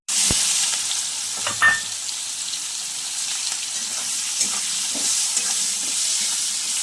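Ginger, garlic, cumin and coriander powder frying in a pan with fried potatoes make a steady close hissing sizzle, with a few stirring knocks and a short louder crackle near the start, and no voices.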